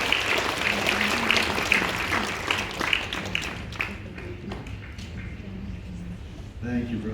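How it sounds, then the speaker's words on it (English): A church congregation claps for a visiting missionary preacher, a dense broad wash of applause that gradually thins out, with voices murmuring and speaking over it and a short swell near the end. "can you give a big hand clap today to Jan Hurst as he comes to share the word?"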